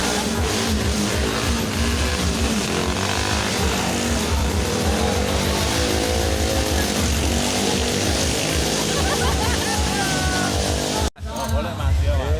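Motocross motorcycles at a race held for Indonesia's Independence Day rev and roar without pause, loud and close, with crowd noise and people talking over the engines until a sudden cut near the end.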